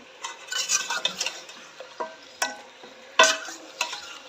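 Chicken masala being fried with two to three tablespoons of vinegar in a handi: a steady sizzle with scattered stirring scrapes and a few sharp utensil clinks against the pot, close and moderately loud.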